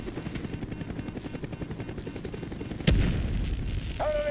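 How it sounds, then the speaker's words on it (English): Helicopter rotor thumps steadily in a Call of Duty Black Ops combat scene, then a sharp gunshot-like bang cuts in near the end, followed by heavier rumbling and a brief rising tone. "Out of the chopper, jump!"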